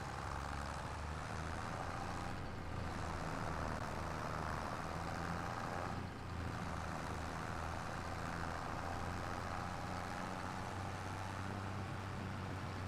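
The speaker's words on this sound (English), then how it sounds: "Boy, this tractor's unhappy with this." A tractor in Farming Simulator 25 strains under load, its heavy low engine drone steady and loud throughout with a couple of brief dips.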